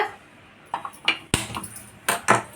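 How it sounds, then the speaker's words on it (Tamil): A kadai is set down on a stove, giving a few light metallic clanks and clinks spaced over a couple of seconds, close and fairly soft. "அடுப்பை பற்ற வச்சுட்டு அடுப்பில் ஒரு கடாய் வச்சுக்கோங்க."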